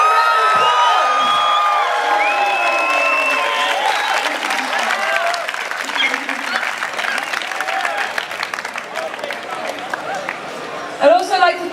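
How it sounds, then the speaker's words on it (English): Crowd applauding and cheering at an outdoor pro-marijuana rally in Melbourne on 420 Day, with whoops and shouts over steady clapping that carries loudly through the whole stretch and swells briefly near the end. "Give them a round of applause."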